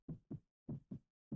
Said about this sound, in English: My heartbeat is loud and out of control.